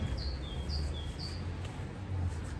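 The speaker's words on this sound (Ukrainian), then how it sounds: "Пташки співають." Birds sing on a cold, foggy morning run in Skhidnytsia, with a few short high chirps repeating in a loose rhythm over a steady low outdoor hum and a faint constant whine.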